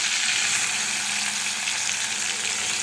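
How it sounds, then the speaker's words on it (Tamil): Onion frying in a pan for an egg curry gives a steady, close, bright sizzle that stays even throughout, with no voices. "இதில் வெங்காயம் சேர்த்துக்கலாம்."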